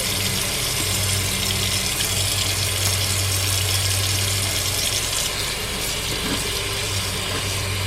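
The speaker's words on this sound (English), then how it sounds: "Rinse your leaves off a little bit." Tap water runs steadily over freshly harvested wild ramp leaves as they are rinsed, a constant, full rushing hiss from a nearby faucet with no pauses.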